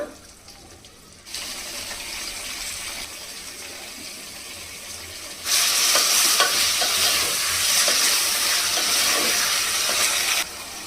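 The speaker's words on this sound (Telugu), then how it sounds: "ఒక ఐదు నిమిషాలు ఈ దోసకాయ అనేది మగ్గాలి అప్పుడు మనకి తొందరగా ఉడికిపోతుంది నూనెలో మగ్గితే ఇప్పుడు దీంట్లో టమాటా వేసేస్తున్నా" Chopped cucumber for sambar cooks in hot oil in a pan, and tomato goes in partway through. A moderate sizzle swells into a louder, denser crackle midway, with scraping stirs over it, before it cuts off near the end.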